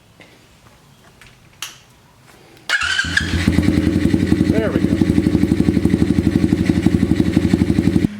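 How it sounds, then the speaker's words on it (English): A 2021 YCF Start F88S 88cc dirt bike engine cranks on the electric starter with the choke off and catches, then runs loud and close with a steady, rapid chugging idle; a brief voice is heard just before it starts. "I'm not sure you'll be able to hear me over the sound of the bike. It's fairly loud"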